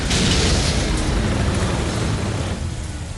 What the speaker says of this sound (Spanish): El Tiger de Whitman es alcanzado.